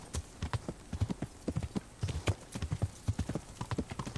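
Horse hooves clip-clop in the game Kingdom Come Deliverance, a quick irregular gallop of close, distinct thuds with no voices over them.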